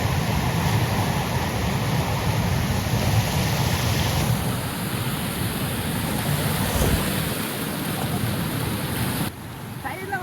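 Loud, continuous rushing river water pours over the Kalingarayan weir on the Bhavani River, roaring close by without letup, a broad steady wash of sound.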